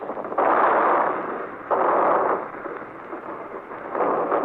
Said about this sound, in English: now the landing boats themselves have opened fire.